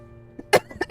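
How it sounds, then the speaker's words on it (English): Several coughs from a person with a fading voice, one quiet cough followed by a loud burst and two more coughs in quick succession, close and clear with no talk over them. "see, I'm coughing"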